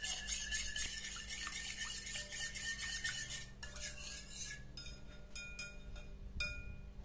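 Cinnamon roll dough ingredients, including salt and sugar, stirred together in a mixing bowl, with a steady scraping swirl and light clinks of utensil against the bowl, close and continuous with no talking.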